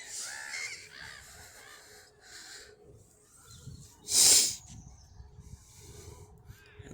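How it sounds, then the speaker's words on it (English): Park birds squawking for food during a late spring walk, a single loud harsh squawk standing out briefly over a busy outdoor background with other distant bird calls and ambient noise. "They're just everywhere squawking for some food."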